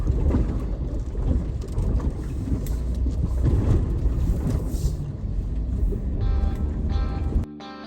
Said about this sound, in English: You can actually hear and feel that water under your feet